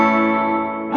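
A single clean electric guitar chord rings steadily and evenly, undistorted, before a new attack enters right at the end.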